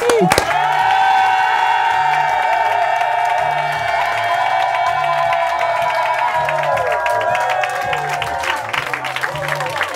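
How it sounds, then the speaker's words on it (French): An audience applauds and cheers at the close of an evening talk show, a broad wash of clapping and shouts laid under loud, steady music with a pulsing bass throughout. "Bravo à vous, bravo. Faut toujours applaudir."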